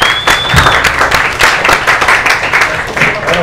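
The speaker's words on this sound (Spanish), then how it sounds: "un aplauso para ustedes" Audience applause at a homebrew craft beer talk, steady dense clapping filling the whole stretch at close, loud level with no gaps.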